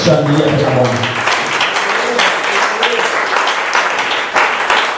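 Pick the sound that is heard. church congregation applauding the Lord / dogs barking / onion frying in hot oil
church congregation applauding the Lord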